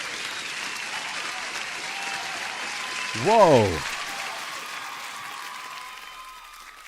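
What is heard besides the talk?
crowd cheering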